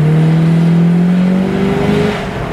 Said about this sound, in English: makes good noises when you stand on it